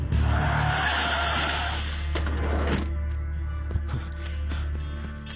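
A car's tires skid and squeal loudly as it brakes to a halt, a sustained screech lasting about two seconds that cuts off into quieter rumble with a few light knocks.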